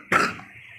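A single short, hoarse cough from someone with a cold, close and fairly loud, fading into a brief low tail.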